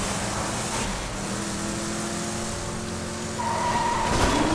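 A vehicle in the Borderlands 2 video game drives with a steady engine drone, then skids, its tires squealing as a rising tone near the end, loud and close without talk.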